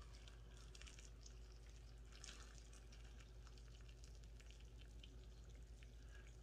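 Hot boiling chicken stock is gently poured over a bowl of noodle soup with an egg, a faint continuous splashing and trickling of liquid with soft crackly bursts and no voices.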